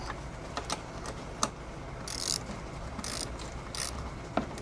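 A 1/4-inch drive ratchet with a 7/16 socket clicks in short bursts while tightening a light bracket bolt on a Harley-Davidson Road Glide, close and fairly quiet.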